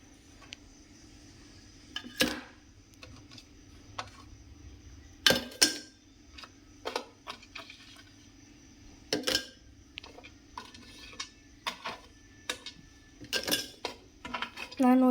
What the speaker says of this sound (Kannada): ಈಗ ನಾವು ಫಸ್ಟ್ ಸ್ಟೆಪ್ಪು ಓರಿಯೋ ಬಿಸ್ಕೆಟ್ನ ಜಾರ್ಗೆ ಹಾಕೋಣ